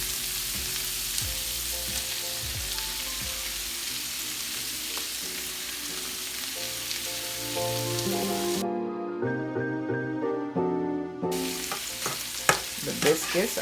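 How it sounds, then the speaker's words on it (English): Mushrooms stirred into a sizzling roasted chicken hash in a pan, a steady frying hiss with scraping stir strokes, partly masked by background music that swells midway, no talk. "So we're going to give that a stir. And we're going to put the mushrooms in."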